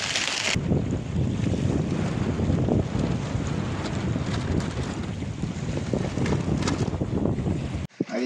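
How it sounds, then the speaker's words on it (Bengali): A dense, constant roar of wind and water surrounds the listener, like rain and choppy river waves against a boat in the Sundarbans, loud and unbroken for several seconds. "বৃষ্টিও যেমন হচ্ছে, ঢেউও হচ্ছে তেমন।"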